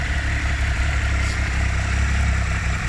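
A Triumph Tiger 1200 Alpine with its 1200 cc three-cylinder engine and Arrow exhaust idles close by, a steady, even rumble with a light mechanical clatter and no talk.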